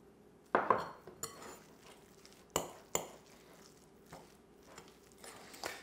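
Spoon stirring black pepper and salt into a bowl of chicken and horseradish mayonnaise, a series of separate clinks and scrapes against the dish with quiet gaps between them.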